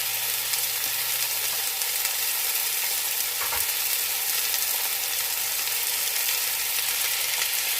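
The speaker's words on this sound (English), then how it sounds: "we're going to let that cook, sear it for about a good 3 to 5 minutes" Chicken sears in a hot pan for a Hawaiian pineapple chicken dish, giving a steady, dense sizzle and crackle close up that holds evenly throughout with no talking.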